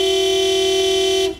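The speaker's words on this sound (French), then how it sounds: "Ce n'est pas en klaxonnant que les voitures rouleront plus vite, tu sais." A single long, loud, steady car horn blast in a cartoon traffic jam, held close and clear for over a second before cutting off.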